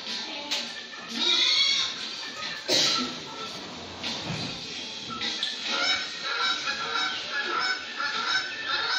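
Domestic goose honking repeatedly at moderate distance, a series of nasal calls over a faint background, with no speech.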